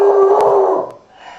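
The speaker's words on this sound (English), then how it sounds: "I have 2 dogs, Jack and Bailey, as you can hear." Two pet dogs, Jack and Bailey, howling together in a loud sustained wavering tone close by, fading out toward the end.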